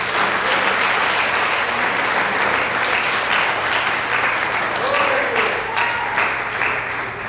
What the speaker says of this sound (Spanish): Demos ese aplauso más fuerte al Señor.